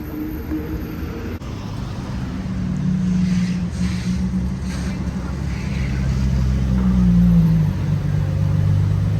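A GTO sports car drives past at night in Monaco, its engine building from a low rumble to a loud, sustained drone that swells and lingers as it nears, with brief voices underneath.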